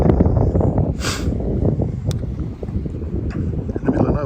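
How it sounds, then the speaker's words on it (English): Strong wind on the Nullarbor plain roars and buffets against the microphone, a continuous low, rough rumble with gusty swells throughout. "Quite a lot of wind coming out of it."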